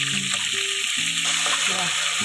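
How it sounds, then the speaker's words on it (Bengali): Chicken being stirred and lightly fried with onion paste and ginger-garlic paste: a continuous, close sizzle and hiss, with a few faint tonal sounds in the background. "এরপরে আমি ভালো করে নেড়ে নিচ্ছি হালকা করে ভেজে নিচ্ছি ভালো মতো"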